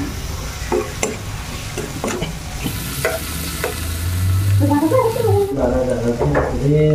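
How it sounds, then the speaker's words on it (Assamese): Pork with homegrown mushrooms stir-fried in a pan, a steady sizzle under repeated scraping stirs that grows louder and denser toward the end, with a little speech over it. "মাছৰুমখিনি দি দিম ঘৰতে খেতি কৰা মাছৰুম"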